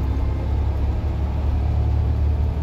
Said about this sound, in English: The revs are going up.